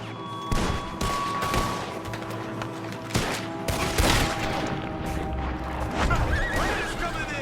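A rapid burst of gunfire crackles through a Red Dead Redemption 2 shootout, several loud sharp shots spread over a few seconds, with horse whinnies and hoofbeats mixed in and voices talking between them.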